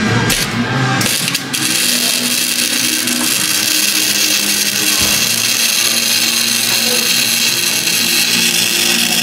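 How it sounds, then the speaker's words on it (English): Flanges are welded onto a Mustang H-pipe exhaust, giving a steady, loud, crackling hiss that runs throughout. It opens with a few brief bursts and has occasional small pops, close and continuous. "He's welding on the flanges to get the rest of the H-pipe on there"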